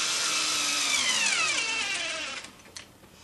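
A small powered tool on a Boz Saddlery balance ride saddle kit drives a saddle screw hand-tight: a loud, high motor whine falls in pitch as it works, then winds down and cuts out after about two and a half seconds.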